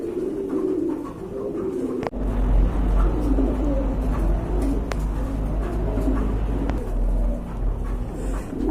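A pair of Bombay pigeons coo in low, throaty murmurs amid constant rustling and background noise, with a sharp knock partway through.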